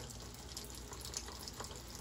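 Running water rinses soap out of a paint brush, a quiet, steady splashing hiss from a tap, faint and continuous.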